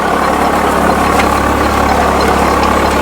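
A 744 tractor pulls a sugarcane rotavator through soil, its engine holding a loud, steady, close diesel drone with a continuous churning rumble and no speech over it.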